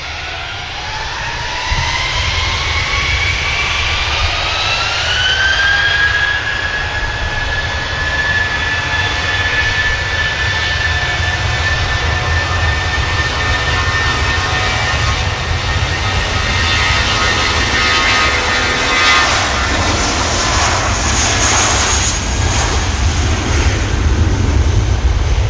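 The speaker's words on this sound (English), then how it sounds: "Next aircraft to touch down is the Pegasus 73." A Pegasus airliner arriving from Istanbul and touching down at Manchester Airport, its engines roaring steadily and loud throughout, with a rising whine that levels into a sustained tone and broadband rumble near the end.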